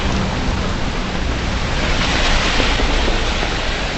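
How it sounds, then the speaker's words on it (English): A storm pours down steady, dense rain, a loud continuous hiss that stays even from start to finish with no breaks. "there's a bit of a storm today"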